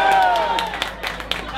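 Crowd at a stage event shouting a team name in unison, a loud sustained yell that fades into scattered cheers and claps.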